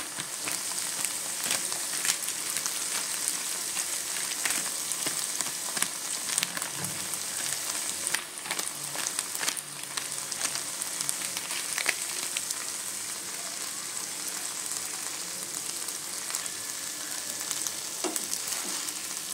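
A spice paste with salt and turmeric sautés in a pan, giving a steady, close, crackling sizzle with faint stirring scrapes and no talking.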